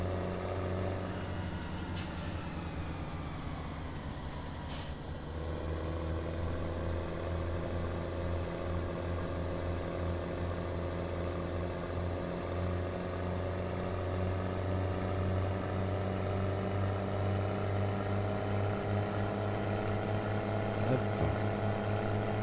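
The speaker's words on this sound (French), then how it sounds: "Oh, ça y va avec le tracteur." Tractor engine in Track IR farming game on Le Petit Limousin map, a steady low drone running alone throughout, with a passing mechanical sweep near the start.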